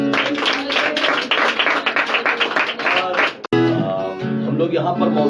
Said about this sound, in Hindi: ओके सब लोग ताली बजाएं।